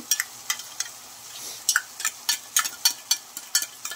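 Tuna frying lightly in olive oil in a pan for a spiced Indian-style veggie pasta, with crisp intermittent spatula scrapes and taps over a faint sizzle, close and fairly quiet.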